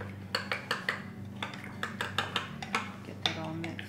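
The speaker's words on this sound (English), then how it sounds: "We're going to grab a spoon. Sorry, I got right over here. And we're going to mix this up." A spoon stirs beef stew ingredients in a bowl, knocking against the sides in a quick series of light, rhythmic clinks that are close and fairly quiet.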